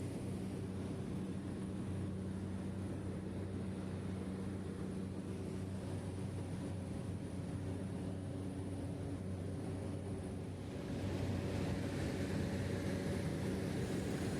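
Steady drone of an airplane cabin in flight, a constant low hum with faint tonal whine, unchanging and continuous, no talking.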